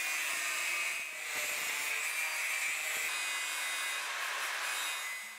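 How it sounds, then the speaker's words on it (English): Angle grinder cutting metal for sump clearance on a Jeep J10 truck, a continuous high grinding hiss held at a fairly even level for several seconds, with no voices. "Which I then removed with the angle grinder."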